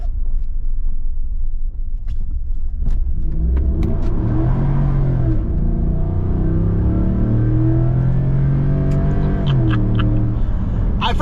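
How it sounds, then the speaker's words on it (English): A pickup truck engine accelerates while driving, a loud low rumble that climbs and falls in pitch through gear changes, heard steadily from inside the cab with no talking. "This truck is a freaking blast to drive."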